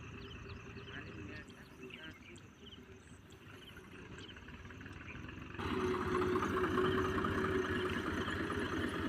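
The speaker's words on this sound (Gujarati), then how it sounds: "ટ્રેક્ટર પાછું વારી દીધું છે" A tractor idles in a farm field during pole-planting work, a steady mid-range engine rumble that grows louder and fuller partway through as it comes closer.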